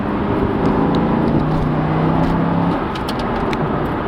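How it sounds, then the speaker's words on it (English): A Chevrolet Corvette C6's 6-liter, 400-horsepower small-block V8 rumbles loudly nearby, its deep throaty tone climbing as it revs, then easing back to a lower idle. "just that sound alone. It's a small block V8, 6 liters, 400 horsepower."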